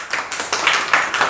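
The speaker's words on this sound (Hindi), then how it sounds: "जोर से तालियां पहले तो बजाओ" Audience in an accounting class gives a short burst of clapping, a steady patter of many hands that swells and dips over about a second, fairly close and without speech.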